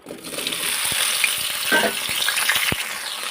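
Okra sizzles loudly in hot oil in a wok with a constant hiss, punctuated by a few clicks and taps of stirring.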